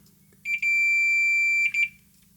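A multimeter set to continuity mode while testing an IR receiver gives one sustained high-pitched beep of about a second and a half, loud and close, with brief stuttering chirps at its start and end over a quiet low hum.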